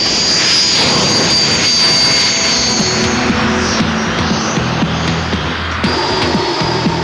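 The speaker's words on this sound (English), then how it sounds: "it's perhaps best known as the aircraft flown by the RAF Red Arrow's aerobatic flying team" An RAF Red Arrows jet, the aerobatic team's aircraft, roars loud and close, its engine noise steady and broadband throughout with a shifting high whine as it passes.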